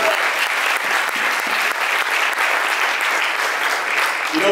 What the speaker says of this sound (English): Give God a big clap offering.